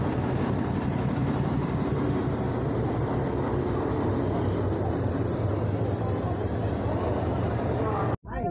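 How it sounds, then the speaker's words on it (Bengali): The 13005 Howrah Amritsar Mail pulls out of a platform at Howrah station, a loud continuous low rumble and rattle of rolling coaches that fills the whole stretch before cutting off abruptly. "ট্রেন ছেড়ে দিল"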